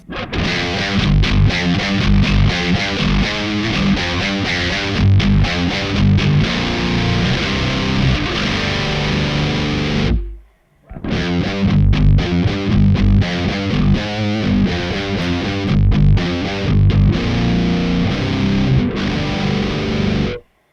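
Heavily distorted electric guitar through a Kemper Profiler amp with a sharp, crisp metal EQ, chugging riffs played loud and close, with one brief pause halfway through before the riffing resumes.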